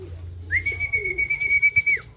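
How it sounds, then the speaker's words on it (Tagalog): Racing pigeons coo softly near the listener, with a single sustained whistle-like tone running through the middle and low murmuring coos beneath, no talk. "Si Astro mga kalapatids, ito yung may pakusukin"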